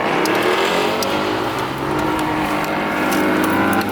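Ford Foxbody Mustang 5.0 V8 accelerating hard in second gear, a loud, steady engine roar close by that holds throughout without a break.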